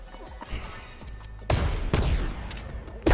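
Gunshots in a video game sniper match: several loud, sharp blasts with a rapid burst of fire, heard over a low background of game noise.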